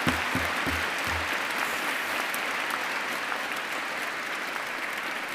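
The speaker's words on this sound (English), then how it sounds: "Give yourselves a huge clap." A graduation audience in Canterbury Cathedral, at a University of Kent ceremony, breaks into loud, sustained clapping that swells quickly and keeps a dense, even roar. A few low thuds sound near the start.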